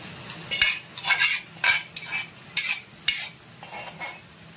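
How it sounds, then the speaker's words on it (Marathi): Marinated vegetables sautéed in hot oil for veg dum biryani, with about eight sharp spatula scrapes and stirs over a steady sizzle, close up and without talk. "आणि हे तेलावर आपल्याला 2 मिनिटं मस्त परतून घ्यायचंय."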